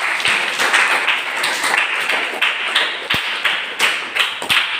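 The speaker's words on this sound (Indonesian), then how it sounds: "Tepuk tangan dulu" A class claps hands together in a lesson setting, a steady patter of many sharp taps with a few louder thumps, continuous and fairly close.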